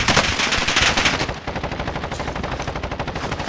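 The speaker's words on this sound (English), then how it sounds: "Other people are shooting them." Rapid automatic gunfire from a first-person video game firefight, loud and dense at first, then a steady rattling stream of shots with no talk over it.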